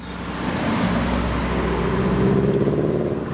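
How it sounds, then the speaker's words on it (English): A dark blue Subaru, a Japanese performance car leaving the Simply Japanese 2021 show, drives past with a steady, loud engine and road roar that swells slightly as it nears, over constant traffic noise. "a dark blue Subaru passing through"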